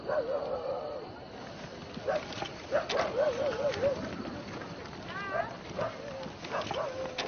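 Dogs bark and yip in a dramatized scene set in ancient Canaan, the barks coming in short bursts mixed with whimpers beneath a voice talking throughout.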